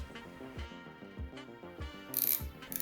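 A Gedore 3/8-inch drive 72-tooth ratchet fitted with a Snap-on flank drive plus socket, clicking in a steady series of close, crisp ratchet ticks with a brighter rasp near the end.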